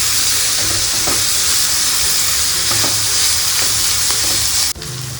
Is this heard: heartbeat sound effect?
no